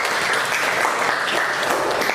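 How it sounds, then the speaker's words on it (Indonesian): Classmates in a school lesson applaud two students, a dense, even burst of many hands clapping close by for a couple of seconds, with no talk over it. "tepuk tangan untuk Ance dan Alia"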